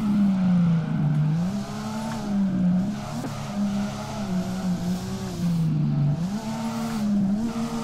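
A stock Nissan 350Z drifts in the DRIFT21 video game with a loud, steady engine drone whose pitch rises and dips, layered with continuous tire squeal throughout.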